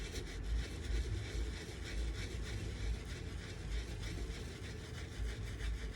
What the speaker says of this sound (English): just always do it with the soft bristle brush because it's soft, so it won't damage any suede very badly